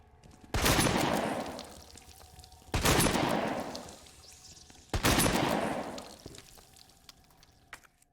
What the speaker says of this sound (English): 3 sleepers, going to shotgun them all.